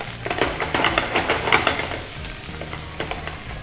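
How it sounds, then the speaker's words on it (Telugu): Finely chopped ginger and garlic fry in hot oil for prawn manchurian, a loud, close, continuous sizzle with pulsing bursts as the pan is stirred. "జింజర్ గార్లిక్ సన్నగా తరిగిన అల్లం అలాగే వెల్లుల్లి వేసుకొని బాగా ఫ్రై చేసుకోవాలి."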